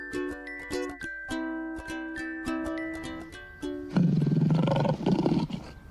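A lion roars loudly and close by for about two seconds at the end, following a stretch of bright musical tones and chimes, with no talking.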